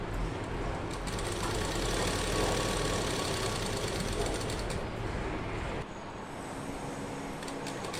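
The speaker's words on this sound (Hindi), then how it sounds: "फटाफट सिलाई लगा देंगे" A sewing machine stitches pants with a fast, continuous mechanical whirring rattle close by, then eases slightly near the end, with no speech.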